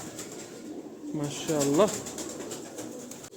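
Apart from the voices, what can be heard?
pigeons cooing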